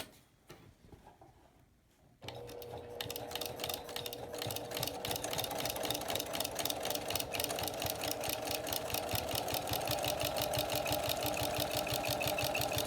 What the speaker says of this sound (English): We are sewing our 2 halves together.